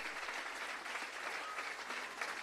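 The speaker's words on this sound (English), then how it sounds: "And keep that applause going for the constabulary band as well." Steady applause from an audience at a civil service long service awards ceremony in Jamaica, dense continuous clapping at even loudness throughout, with no talk over it.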